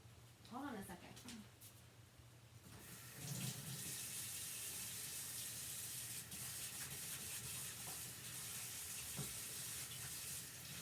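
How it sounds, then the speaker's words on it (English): After some talking, a faucet runs steadily as a chalk-paste decor rope is washed under it in a sink, a loud, continuous splashing flow lasting to the end. "I'm going to wash the other rope and take a look."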